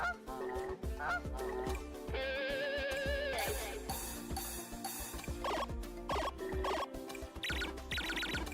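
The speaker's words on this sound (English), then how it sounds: "That's a goose to me." Loud, repeated goose honking from a Sonic Racing crossover video game, sharp nasal calls sounding in quick bursts over energetic game music with beats.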